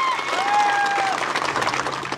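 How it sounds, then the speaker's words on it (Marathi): Crowd applause at an outdoor Hindu rally speech, a steady wash of many hands clapping that swells and holds, with a faint tonal whistle or feedback line sliding above it early on. "टाळी वाजवा एकदा."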